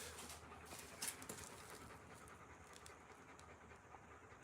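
Dogs pant softly and quickly at close range in a quiet indoor room, a faint steady breathing rhythm with a small bump of noise near the start.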